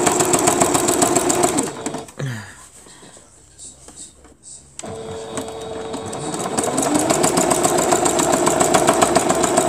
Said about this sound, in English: And I'm going to sew it down.